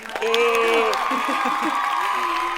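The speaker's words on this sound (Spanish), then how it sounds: "Un aplauso para Mayra" Applause welcoming a guest named Mayra on a podcast about migrant identity, a short burst of clapping with voices talking over it close by.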